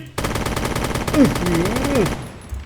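A SCAR-H rifle in the Roblox game fires a sustained, rapid automatic stream of evenly spaced shots for about two and a half seconds, loud and close, with a brief tonal, voice-like sliding sound over the middle of the burst.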